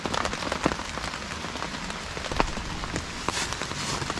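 Steady rain drums on a tarp shelter, a dense even hiss broken by occasional louder drips close by, with no voices.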